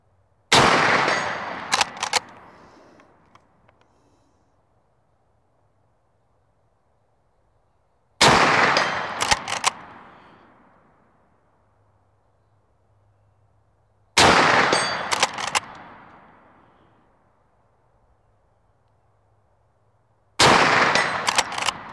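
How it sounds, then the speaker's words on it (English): Four loud Marlin 1894 lever-action rifle shots fired at a target outdoors, evenly spaced several seconds apart, each a sharp crack with a long decaying echo and no talking. "Probably a good thing that I was out of bullets, because I really jerked that last one."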